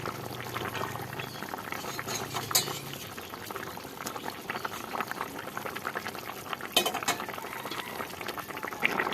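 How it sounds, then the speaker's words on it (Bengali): Bata fish curry with mustard paste bubbles steadily in a pan, a continuous close simmering with occasional light clinks of a utensil against the cookware. "এদিকে তরকারিটাও জাল উঠে গেছে"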